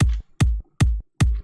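Layered kick-drum kit from a hardstyle build-up plays four heavy, evenly spaced hits with deep booming low end and sharp top, loud and alone.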